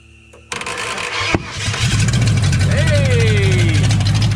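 A Ford 5.0 V8 swapped into a 1994 Jeep YJ cranks and catches, then settles into a loud, steady idle up close after a sharp bang; voices talk over the running engine.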